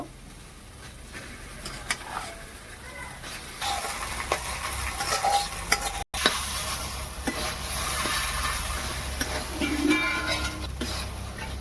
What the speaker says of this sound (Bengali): কড়াইয়ের মধ্যে আলুটাকে আমি দিয়ে দেব।